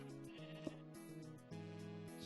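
Sheep in the Minecraft Ore Sheep mod bleat twice in a row, clear wavering game bleats with a short click between them and quiet in the background.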